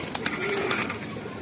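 Shahjahanpuri pigeons coo in a short, soft burst from a loft of males and females, with a few low warbling notes and faint background noise.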